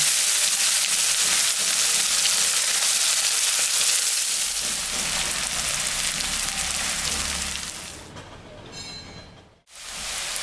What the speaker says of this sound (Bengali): পেঁয়াজটা আমি দিয়ে দিলাম।